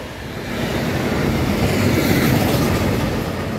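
A train rumbles past nearby in Czechia, a steady broad roar that swells in the middle and eases slightly toward the end, with no voices.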